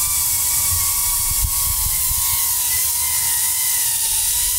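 A DJI Avata drone with overloaded motors hovers nearby in manual mode, giving a steady, loud mechanical whir with a constant high-pitched motor whine that holds throughout, slightly rough and vibrating.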